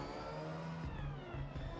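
A car engine in the racing game Forza Horizon 6 revs hard during a speed run, its tone climbing in pitch, then dropping and climbing again with gear changes.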